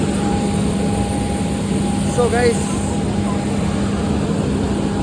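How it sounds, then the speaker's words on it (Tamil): A steady, loud airplane engine drones at an airport just after a flight has landed. The sound is continuous and broadband, and a person talks briefly over it. "இந்த ஃப்ளைட்டில் தான் நம்ம வந்தோம்."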